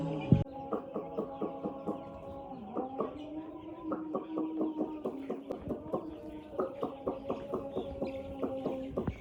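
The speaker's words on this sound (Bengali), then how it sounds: "বন্ধুরা আবার একটা আছে মুরগির খামার, সোনালী মুরগির খামার।" Sonali chickens on a poultry farm cluck continuously, many birds at close range giving repeated short rhythmic calls that overlap in a steady chatter, with one sharp louder squawk near the start.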